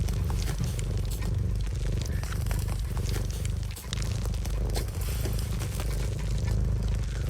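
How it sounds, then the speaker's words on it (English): Sails on a ship in the Sea of Thieves video game fill with air as they are set forwards, giving a steady, loud, broadband whooshing rumble that holds throughout with a brief dip midway and no talk. "They're just set forwards, that sound is them filling with air."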